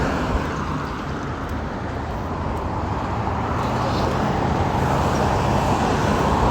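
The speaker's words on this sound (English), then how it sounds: "You got the cars making a lot of noise." Steady roar of car traffic passing along a street, a continuous broadband rumble with no voices, close and fairly loud.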